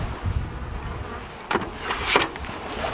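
Honey bees from an active, egg-producing hive hum steadily during an early-season inspection in Texas, a close, continuous buzz with brief louder swells as individual bees pass near.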